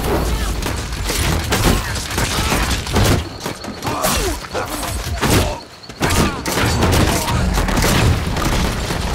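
Rapid gunfire and booming blasts fill a chaotic match of the vampire game Nosgoth, dense and loud almost throughout with a brief lull near the middle, a voice faintly mixed underneath.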